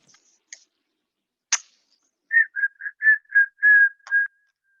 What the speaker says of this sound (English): Do you hear that whistling?